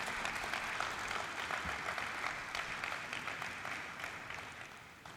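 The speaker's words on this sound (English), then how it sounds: "let us have a good round of applause for Master" Audience applause at an NSE event marking 30 years, a broad wash of clapping that holds steady and then slowly fades toward the end, heard from a distance.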